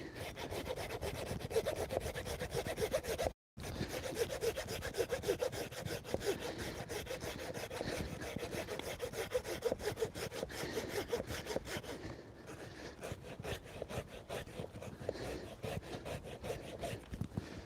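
Wood is sawn by hand with a saw outdoors in the woods, a steady rapid back-and-forth rasp of strokes running continuously and close, with a brief pause early on.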